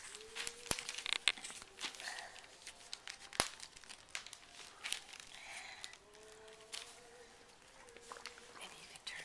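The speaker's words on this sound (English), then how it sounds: "Can you tear the paper?" Gift wrapping paper crinkles and tears in irregular bursts close by, with sharp rips and soft crumpling through the whole stretch while a child and an adult talk quietly in the background.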